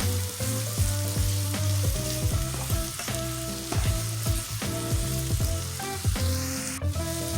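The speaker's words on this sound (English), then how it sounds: "you want to add in your minced garlic. And we're going to saute that for 1 minute" Minced garlic sautéing in a pan before beef kielbasa goes in for slow cooker black-eyed peas, a steady close sizzle with frequent metallic stirring clinks and scrapes throughout.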